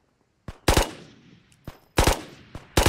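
Gunfire in the video game Ghosts of Tabor: a loud close burst of shots, then two more separate bursts, the later ones rapid doubled cracks, each with a short tail, spread across a few seconds with no talking.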